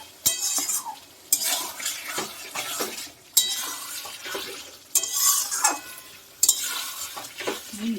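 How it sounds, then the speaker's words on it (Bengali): Chicken mixed with spinach paste being stirred and sautéed in a pan for a palak chicken dish, with repeated scraping of a utensil against the pan over a soft sizzle and bursts of clinking, close and moderately loud. "পালং শাকটা দিয়ে আমি একটু ভালো করে কষিয়ে নিয়েছি"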